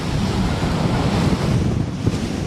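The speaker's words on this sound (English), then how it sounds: "And it's windy." Steady, loud wind roars and buffets the microphone without letup, a constant rushing blast, on a roadway.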